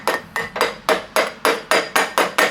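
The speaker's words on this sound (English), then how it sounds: "Just tapping this lightly to loosen this" A hammer lightly taps a cast aluminum pulley on a shaft during a Walker Turner jigsaw restoration, nine sharp, evenly spaced metallic knocks in a steady rhythm, close and loud.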